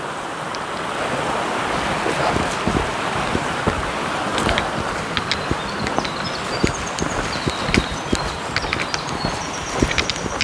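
Stream water flowing through a ravine beside the Appalachian Trail, a steady broadband rush and babble that stays close and fairly loud throughout, with no one speaking.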